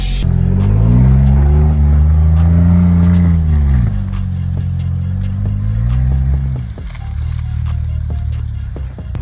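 Ford Bronco engine revving hard in snow with wheels spinning, a loud, close, wavering drone that rises and falls in pitch, dropping briefly before climbing again.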